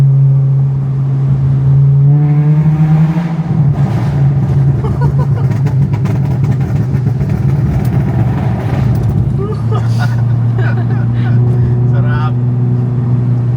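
A Honda Civic FD's engine drones loudly as the car moves through traffic, rising in pitch under acceleration, dropping, then climbing again, with talking mixed in throughout.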